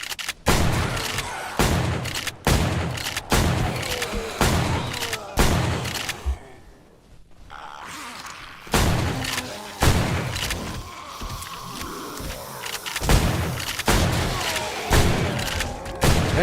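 Repeated gunshots from the zombie-survival game 7 Days to Die with the Ravenhearst mod, loud sharp blasts fired in a steady rhythm across most of the stretch, with a brief quieter gap in the middle.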